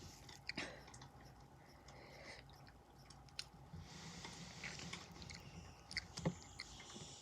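Takis rolled tortilla chips being chewed up close during an eating challenge, with faint, irregular crunches and squishy bites spread across a quiet background and no talking.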